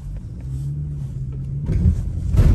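A Peugeot 206 car driving, its engine a steady low hum and rumble heard from inside that swells louder near the end as it pulls harder, with no one talking.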